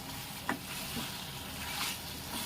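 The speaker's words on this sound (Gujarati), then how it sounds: "આપણે થોડી વાર એને હલાવી લઈશું." Garlic potatoes being stirred in a pan, giving a soft, steady frying sizzle with a faint scrape or two from the spoon, low in level and with no talking.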